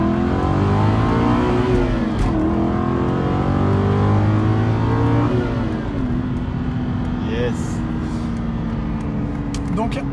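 An Aston Martin Vantage V8 with the 4.3-litre engine accelerates hard up close, its loud engine note climbing through rising gear pulls with brief dips at shifts, while someone talks over it.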